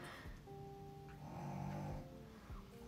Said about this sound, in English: my dog snoring, he's taking a nap